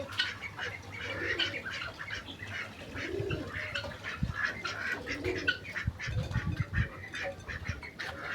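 Several ducks quack and chatter nearby in an irregular flurry, with other birds cooing and wings flapping in the background.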